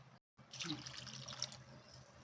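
Water splashes and sloshes in a vessel for a couple of seconds after a brief silence, close and fairly quiet, as lentils are rinsed for idli.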